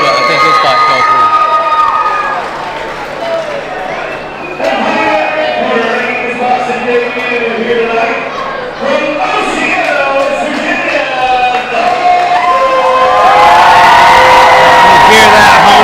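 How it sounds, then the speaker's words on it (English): A hometown crowd cheers and whoops for a fighter at a fight event, loud sustained shouting and yelling that swells toward the end, with a commentator talking over it. "You hear that hometown crowd going crazy for Dalton Estep."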